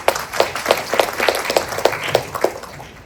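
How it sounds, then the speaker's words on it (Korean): Applause at an education administration forum in Gyeonggi as a speaker is welcomed, about three seconds of rhythmic, fairly even clapping from a modest audience, individual claps audible rather than a dense roar. "큰 박수로 맞이해 주시기 바랍니다"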